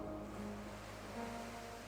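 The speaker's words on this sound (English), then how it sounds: "Let your breath follow the rhythm of the ocean," Ocean waves and surf wash in steadily at a shoreline, a soft continuous roar with faint low tonal hum, moderately distant and alone without voices.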